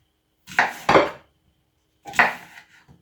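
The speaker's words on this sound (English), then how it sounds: "Just cut the apple," A knife chops through an apple on a cutting board for a liver-cleanse juice, three sharp knocks, two close together then a third after a pause, each ending in a quick thud, with no talking.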